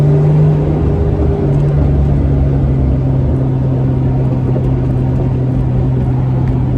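A 1993 Toyota Supra on a rough-riding drive gives a loud, continuous engine drone and low rumble from inside the car, holding at a steady pitch with no speech over it.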